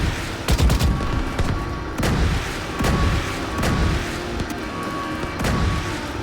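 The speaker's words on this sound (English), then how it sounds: "Shoot the panel out, buddy." Repeated bursts of gunfire in The Division 2 shooting out a panel during a raid, loud and close. Several volleys arrive at roughly regular intervals with short gaps between them.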